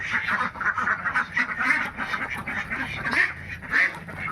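Khaki Campbell ducks quack repeatedly in a lively, overlapping chorus from nearby, with no talk.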